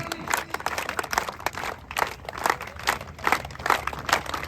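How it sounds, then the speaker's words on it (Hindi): A crowd at a circle kabaddi event at Punjab University claps steadily, with dense, uneven bursts of applause continuing throughout, close and moderately loud. "ताली बजाते रहो, ताली।"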